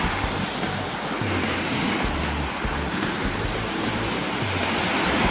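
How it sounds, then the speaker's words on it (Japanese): Ocean swell breaks on a Sea of Japan beach as a continuous, loud roar of surf, with wind noise mixed in and no voices. "うねりがインサイド組に割れてます。"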